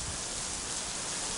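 Torrential rain pours down on an outdoor soccer stadium during a women's college match, a dense, even hiss of falling water filling the air with no voices.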